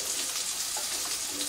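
Sausages sizzling in a frying pan for a full English breakfast, a steady, loud, bright crackle with no pauses.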